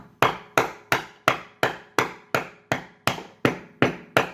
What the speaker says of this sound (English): I'm just going to take a rubber hammer here and just tap it in.